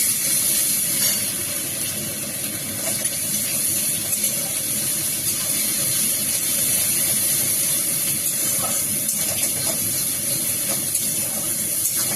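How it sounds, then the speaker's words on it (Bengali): Ginger garlic paste hits browned fried onions in a hot pan for an eggplant masala, giving a steady, continuous sizzling hiss close up, with no voices. "এখানে আদা রসুন পেস্টটা দিয়ে দিলাম"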